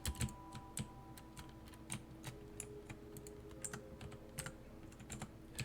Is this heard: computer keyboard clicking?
yes